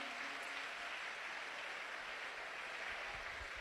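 A congregation applauds in a steady, faint patter of many hands clapping. The clapping sounds distant and continues without a break.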